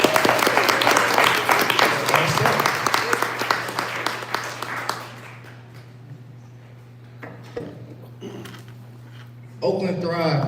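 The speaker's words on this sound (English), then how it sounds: "Let's give a round of applause for Bucky." Audience applause at a 1 Million Cups Detroit Metro startup pitch event, a dense crowd clapping loudly for about five seconds before fading into quiet room noise, with a few stray claps and a voice returning at the end.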